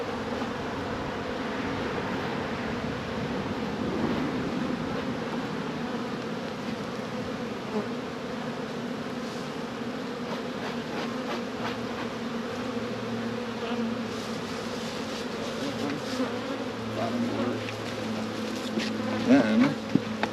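Honey bees hum in a steady, dense drone around an open hive during early spring splits, a continuous close buzz with brief louder passes near the end and no talk over it.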